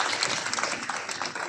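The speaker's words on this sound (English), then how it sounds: "Big round of applause for that." An indoor audience at a brain fitness technology launch event in India claps together in a dense, steady round of applause, moderately close and without talk.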